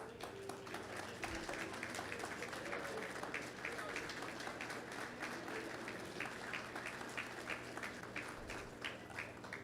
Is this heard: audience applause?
yes